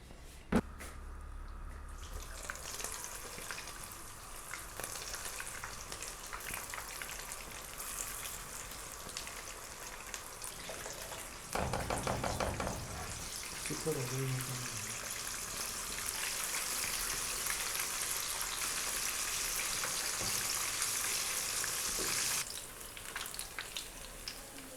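Pakoras for kadhi fry in hot oil with a dense, crackling sizzle like rain on a surface; the sound grows noticeably louder and fuller partway through, then stays strong before easing near the end.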